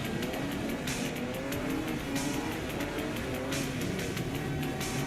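A Mazda MX5 drift car runs on a wet track at an Australian Drift Club event, its engine droning and rising steadily for several seconds with tire hiss and squeal over continuous road noise. No one talks.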